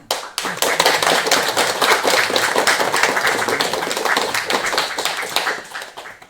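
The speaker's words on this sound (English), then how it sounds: "Now applaud again." An audience claps steadily at a game developers' event, a dense patter of many hands that rises quickly, holds for several seconds, then thins out and fades at the end.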